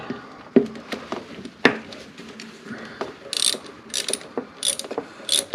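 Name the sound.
palm ratchet with swivel extension clicking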